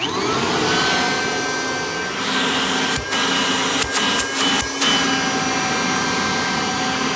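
A Kirby Heritage II replica upright vacuum motor, running with the hose attached, runs loud and steady with a high whine, briefly dipping and fluttering in the middle before settling back to a constant roar.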